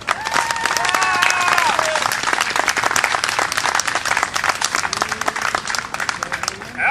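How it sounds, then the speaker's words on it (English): An outdoor crowd at a gazebo gathering for Labor Day claps for a speaker, a dense steady applause lasting several seconds with a few whistles early on. "Let's have a big round of applause for Patrick Murfin."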